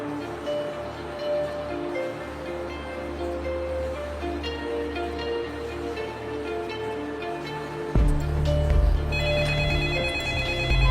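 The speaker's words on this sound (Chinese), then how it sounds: "我去接个电话" A telephone rings repeatedly in an old school room, an even, continuous electronic ring that persists throughout, joined by a heavier low rumble in the last few seconds; no one speaks.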